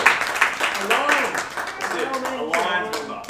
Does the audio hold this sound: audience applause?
yes